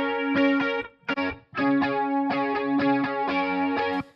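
A dirty, distorted guitar part in a pop song demo plays loud and close, with choppy strummed chords that break off briefly near one second before resuming steadily, heavily processed with effects and chorus.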